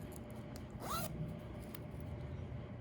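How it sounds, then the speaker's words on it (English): A zipper is pulled closed along fabric while sewing a centered zipper: one quick, rising zip lasting a fraction of a second, faint and close, with quiet room noise around it and no talking. "now we're gonna take our zipper, I'm gonna zip it back up"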